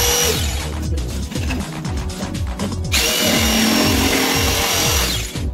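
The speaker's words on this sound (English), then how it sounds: "I'm using my jigsaw." A jigsaw buzzes loudly and continuously, its rapid reciprocating chatter biting through wood, close up with no talking.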